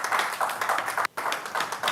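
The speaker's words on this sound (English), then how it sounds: "can we give a round of applause for Justice?" A small audience claps in a short burst of applause, the claps dense and close, with a brief pause partway through before clapping resumes.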